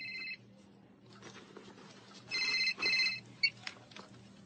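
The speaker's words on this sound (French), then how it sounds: "C'est le téléphone de qui?" A telephone rings indoors in a French teen film, short electronic ring bursts at the start and again twice near the middle, with quieter rustling and small knocks between them.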